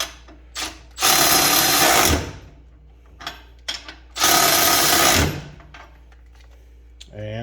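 A Snap-on or Milwaukee extended head ratchet runs forward in two loud, steady bursts of about a second each, with quieter clicks and handling noise between them.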